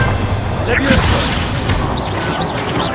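Leviosa levitation spell in Hogwarts Legacy, a swirling magical whoosh with rising, chirping tones layered over rumbling booms and clattering battle noise, loud and continuous.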